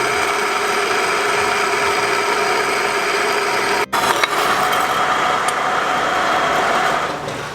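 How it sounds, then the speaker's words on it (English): A bandsaw cuts through a metal transmission mount plate with a steady, loud grinding whine. The whine breaks off briefly near the middle, then carries on until it tapers at the end. "So we'll have to clean up the edges here a little bit, but bandsaw's doing its thing."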